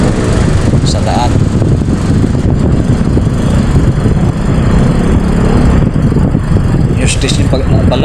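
Heavy bumper-to-bumper road traffic on a Saturday, with car and motorcycle engines idling and revving in a steady, loud rumble while someone talks over it throughout.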